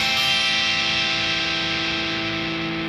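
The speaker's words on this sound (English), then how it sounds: "Just slow down your arm and you'll hear almost those strings come through individually like this." Slow strum on a distorted electric guitar from the intro, strings ringing out one after another into a dense, loud sustained chord that holds steady for a few seconds.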